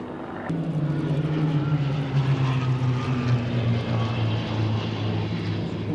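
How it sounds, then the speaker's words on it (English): A Spitfire's piston engine drones loudly at the Flying Legends air show at Duxford, a steady propeller growl with a slowly falling pitch as it passes and breaks away. "so as the Spitfires break"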